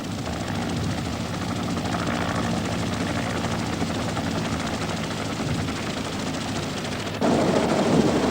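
Vietnam War evacuation helicopter, its rotor thudding in a fast, steady chop that fills the whole stretch, loud and close, growing even louder for the final second with no voices.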